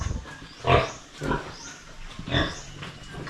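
A breeding sow on a pig farm grunts in a series of loud, rough, close grunts at irregular intervals, with quieter farm noise between them.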